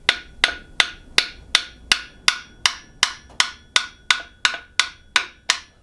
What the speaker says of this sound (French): Le tout petit marteau, juste pour aider